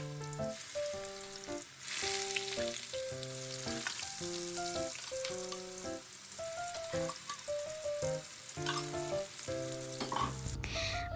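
Fish and green beans fry in a home kitchen pan, giving a steady sizzle that runs under background music throughout.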